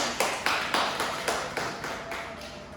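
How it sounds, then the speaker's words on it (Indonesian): A classroom group claps for a student named Evi during a microteaching lesson on social mobility, giving a short burst of scattered hand claps at a moderate distance with no voices over it. "Beri tepuk tangan untuk Evi."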